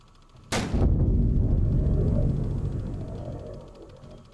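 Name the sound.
warship guns firing in the video game Victory at Sea Atlantic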